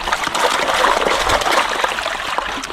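Water is poured steadily onto a floppy gold-prospecting dream mat beside an Irish river, a continuous close trickling and splattering that runs unbroken the whole time.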